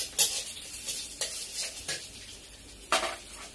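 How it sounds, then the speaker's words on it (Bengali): Chopped onions are stirred and fried in a pan, with a soft sizzle under several scraping strokes of a spoon against the metal, close and fairly quiet. "সেই পেঁয়াজ কুচানোগুলো দিয়ে দিচ্ছি, নেড়ে দিচ্ছি"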